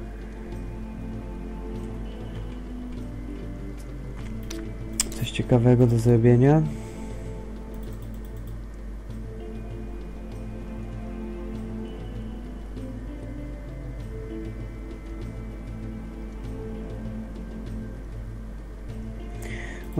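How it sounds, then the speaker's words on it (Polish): Steady rain falls in the survival game Sheltered, a soft continuous patter running throughout beneath looping game music, while someone talks over it. "znowu pada deszcz, super."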